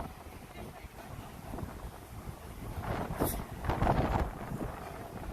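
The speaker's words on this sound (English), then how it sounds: "But it is windy and it is cold here on the west side today." Gusty wind buffets the microphone in loud, rumbling bursts that swell toward the middle and end, with faint background noise, on the High Line in Chelsea, New York City.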